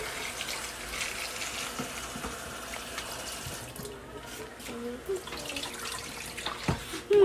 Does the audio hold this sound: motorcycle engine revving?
no